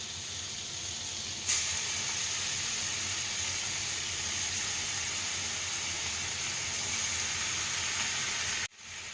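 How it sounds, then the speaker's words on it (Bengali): Marinated prawns drop into hot butter with a sudden burst of sizzle, which holds as a loud, dense, even hiss for several seconds before cutting off abruptly. "এবার আমি ওই ম্যারিনেট করা চিংড়ি মাছগুলো ভেজে নেবো"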